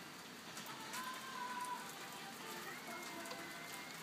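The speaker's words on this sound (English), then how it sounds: "now I've come back here and now it's raining again" Steady rain falls during a thunderstorm in Bloxwich, a dense, even hiss of drops on surfaces filling the whole stretch at moderate level, with a faint tonal whine passing briefly in the background and no voices.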